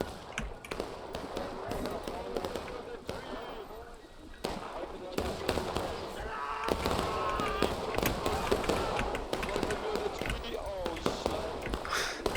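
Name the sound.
musket volley fired in a Civil War video game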